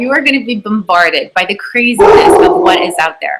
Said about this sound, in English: Forgive me for my dog barking.